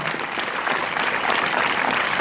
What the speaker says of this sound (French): vous applaudissez, donc ça peut durer